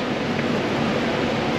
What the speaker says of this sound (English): Biggest and tallest indoor waterfall.